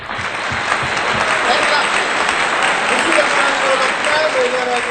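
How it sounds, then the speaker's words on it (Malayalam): Audience applause fills a room at a motivational talk in Koyilandy, steady dense clapping from many hands sustained throughout at an even loudness, with no pauses. "ഒരു ക്ലാപ്പ് കൊടുക്കാൻ പറ്റുമോ?"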